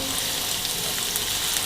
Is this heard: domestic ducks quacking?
no